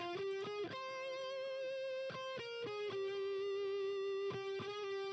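A distorted electric guitar plays a sustained lead line with sharp picked attacks, buzzy and bright, held notes ringing between strokes.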